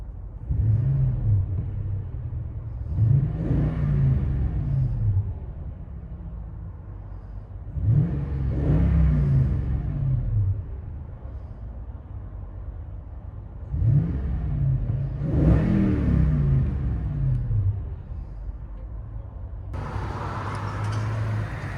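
A 2020 Toyota Tundra 5.7L V8 with an X-pipe and Flowmaster Super 40 exhaust revs from inside the cab, with four deep rising bursts separated by idling lulls and a brief whirring noise at the end.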